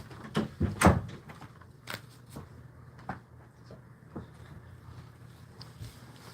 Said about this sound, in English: Okay, I'll lock the door again now. This time it's locked.